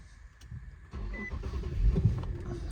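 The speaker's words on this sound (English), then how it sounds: "Let's go ahead and start the vehicle." An Infiniti QX cranks and starts up close, with a short whir followed by a steady idle rumble that settles in, alone with no talk.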